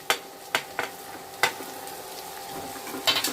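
Ginger-garlic paste, green chilli and tomato sauté in a pan for a home-style biryani, with a low steady sizzle broken by several sharp spatula scrapes and knocks against the pan.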